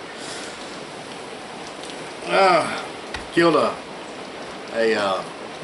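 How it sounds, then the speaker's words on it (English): Steady rain falls outside on a wet late-May holiday weekend, a constant soft hiss across the whole clip while someone speaks in short bursts over it. "Welcome to a rainy Sunday."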